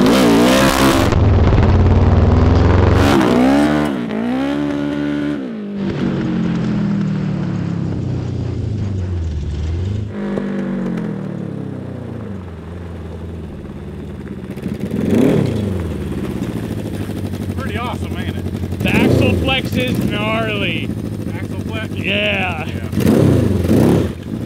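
A Little Tikes go kart engine accelerates in third gear, its loud revving pitch climbing and falling through several surges, close by, with people talking between and over the runs.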